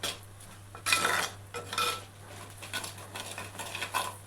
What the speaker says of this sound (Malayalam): നല്ലോണം വതക്കണം, അതിൻ്റെ മണം പോയിട്ട്.